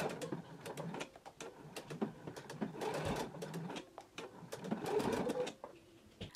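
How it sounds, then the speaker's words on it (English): A sewing machine stitches a bar tack on a pair of pants in short bursts, pausing and restarting, with faint bird cooing in the background. "start stitching the bar tack"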